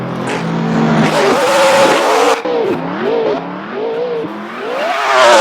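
A drag racing car launches hard off the start line, its engine roaring loud and close, the pitch climbing and dropping through several gear changes as it pulls away.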